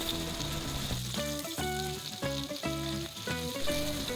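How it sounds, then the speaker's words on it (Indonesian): Tuna pieces frying in hot oil give a steady, close sizzle that runs throughout, with rhythmic background music layered over it. "Untuk menggoreng ikannya nggak usah terlalu kering ya, cukup berubah warna dari sisi kanan dan kirinya"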